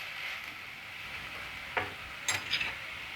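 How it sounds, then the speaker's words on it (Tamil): Green chillies frying in a pan for a Tamil garlic fish kulambu are stirred, giving a soft steady sizzle with a few brief scraping clinks near the end; no one speaks. "இது கூடவே பச்சை மிளகாய் சேர்த்துப்போம். கிளறி விட்டுப்போம்."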